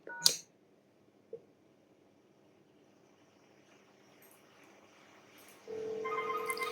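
Analog telephone connected through a Grandstream HT881 FXO port: a sharp click and a softer one, a long quiet stretch, then a steady telephone tone that rises and holds to the end.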